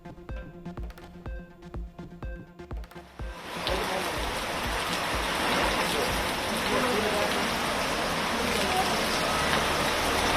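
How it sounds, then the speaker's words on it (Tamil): Heavy rain pours down steadily during a funeral procession in Kallakurichi, a dense continuous roar that sets in after a few seconds of rhythmic drumming and stays loud and close to the end. "கள்ளக்குறிச்சியில் கள்ளச்சாராயம் குடித்து இறந்தவர்களின் இறுதி ஊர்வலத்தின் போது கொட்டிய மழை."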